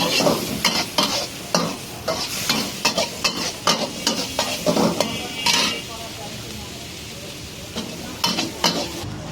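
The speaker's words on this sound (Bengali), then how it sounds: "রসুনটা ভাজলাম" Garlic fries and is stirred with a large spoon in a pan over high heat for a chicken stir fry, with a steady sizzle broken by repeated scraping strokes and clinks of the spoon against the pan; one brief stretch of stirring goes quieter.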